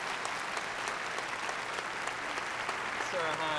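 Sustained, dense applause from a studio audience welcoming Sarah Churman, a woman born deaf who first heard at 29, steady and loud throughout with a voice faintly underneath.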